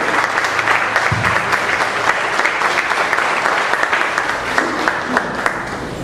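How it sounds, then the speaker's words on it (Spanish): Audience applause in a church service, a sustained wash of many hands clapping at moderate distance, steady for several seconds and then gradually thinning. "Merece un aplauso al Señor porque nos hizo hijos suyos."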